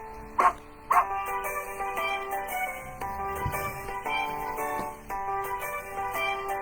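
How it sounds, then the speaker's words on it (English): Several dogs barking and yipping in quick repeated bursts, fairly close, over a constant tonal background hum. "Sorry, crazy dogs."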